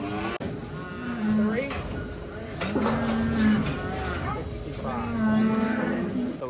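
Cattle moo repeatedly while being worked on a farm, long low bellows from several animals, close and loud, with voices talking and pen clatter around them.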